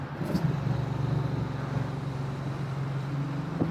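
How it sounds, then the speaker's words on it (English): From inside a 1968 Camaro RS on the road, the engine drones steadily at low pitch, with a quick throttle blip between gear shifts near the start, close and moderately loud. "I love the blip of throttle in between shifts."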